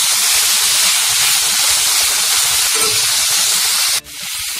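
Chopped tomatoes hitting a hot pan for egg bhurji, producing a loud, steady hissing sizzle that fills the clip and dips sharply near the end before resuming more quietly, with no voices.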